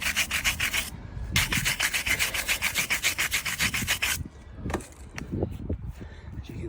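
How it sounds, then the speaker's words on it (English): Brake pads from a Toyota Avensis T270 D4D are rubbed down by hand in steady, rhythmic back-and-forth strokes, up close and fairly loud, then broken into a few scattered scrapes. "So the next thing is the brake pads. So we'll just give this a bit of a rubbing off."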